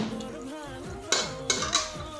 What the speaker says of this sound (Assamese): আৰু এনেকৈ 5 মিনিটমান ভাজি থাকক